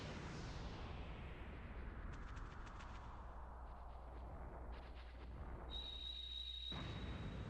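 A fire scroll blast in the video game Brave Fencer Musashi: a loud, sustained explosive roar that slowly fades, followed by crackling bursts and a thin ringing tone before cutting off sharply.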